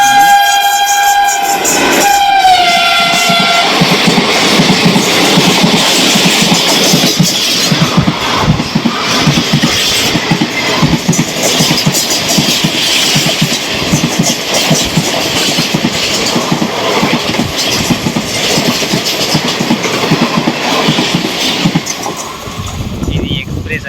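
An express train rumbles past close by without stopping, with loud rhythmic clatter of wheels over rail joints, a horn blast near the start, continuing steadily throughout.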